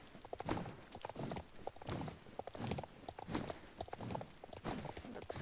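A horse canters in the Star Stable video game, its hooves drumming in a steady three-beat rhythm with soft clip-clop thuds repeating throughout, quiet and continuous with no talk.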